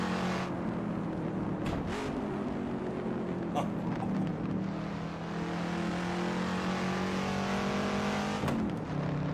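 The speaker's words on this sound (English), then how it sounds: "Wouldn't be surprised if it's like like the sound from the Ford GT or something like this. Some generic Ford V8." Generic Ford V8 engine sound from a racing video game, a steady droning roar with shifting revs and brief spikes, heard under ongoing commentary.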